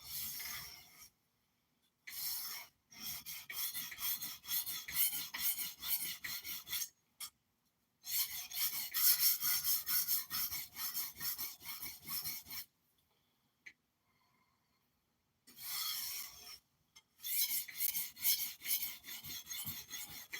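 Kitchen knife edge worked near the point on a sharpening stone, close and loud repeated rasping strokes in several bursts separated by pauses, with faint handling sounds in the gaps.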